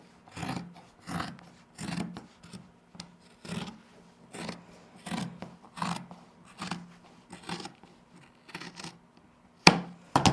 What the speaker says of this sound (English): I like these big dressmaker shears.